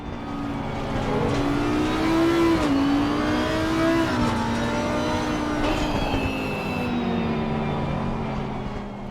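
Onboard race car engine lapping the Hungaroring in a sim racing game, loud and continuous, with the pitch climbing and dropping through gear changes and a whining tone over the engine drone.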